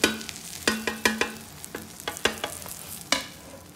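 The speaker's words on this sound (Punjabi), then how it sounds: "ਹੁਣ ਇਹਨੂੰ ਥੋੜ੍ਹਾ ਜਿਹਾ ਫਰਾਈ ਹੋਣ ਦੇਵਾਂਗੇ" A bread omelette fries in a pan, with a soft steady sizzle under a series of sharp metallic clinks and scrapes from a utensil working the pan, all close by.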